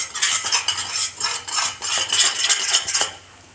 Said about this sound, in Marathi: चम्मच देत राहायचं,